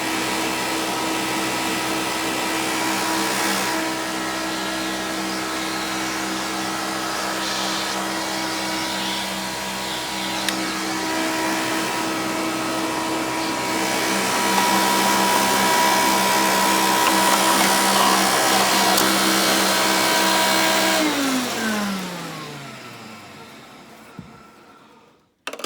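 Hoover PowerMax U3729-910 upright vacuum running in tool mode with loud plastic vibration, a steady close-up whine and drone that swells midway and then winds down as the motor shuts off.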